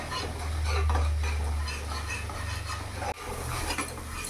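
Spice paste for a thin lata fish curry being stir-fried in a little oil over medium heat, a near, steady scraping of a spatula against the pan with faint sizzle and a brief sharp knock partway through, no talking.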